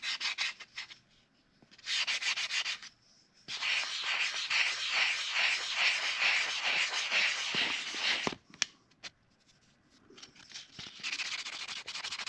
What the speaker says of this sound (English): just going over it again with 400 grit. Not much to it, just sand and sand and sand